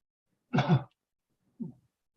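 Two short, throaty coughs, the first louder and longer, the second brief and softer after a pause, in an otherwise quiet setting.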